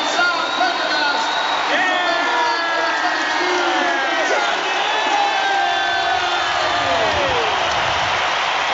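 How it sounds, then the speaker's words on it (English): A rugby crowd at an Ireland versus Australia Autumn Nations match roars and cheers as a replacement outside half comes on, a sustained loud wall of voices with whoops rising over it. "Big cheer from the Ulster contingent in the crowd here"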